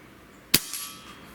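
A bullpup rifle shot hits an egg-shaped target with one sharp, close clang, followed by a softer ringing ping that fades within a second; no speech.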